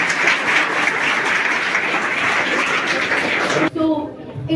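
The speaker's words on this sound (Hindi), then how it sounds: "Please have a big round of applause." Loud, sustained applause from an audience at a prize distribution ceremony, dense clapping lasting several seconds before dropping off as a voice begins speaking.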